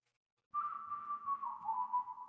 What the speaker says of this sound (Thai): โอ้เขายังไม่ทิ้งคอนเซปต์การผิวปากว่ะ